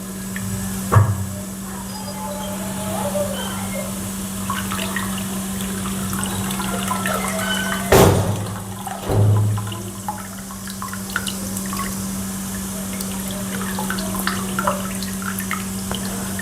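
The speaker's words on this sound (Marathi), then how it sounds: "यामध्ये आपण हा चिंचेचं पाणी घालणार आहे" Tamarind water pours steadily into a vessel with light splashing, over a constant low hum; a couple of soft knocks interrupt the flow.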